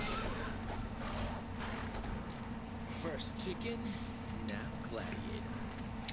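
Horse neighing in the Devil May Cry 3 video game, with repeated whinnies and clip-clopping hooves over a dense, steady game soundscape, voices talking alongside.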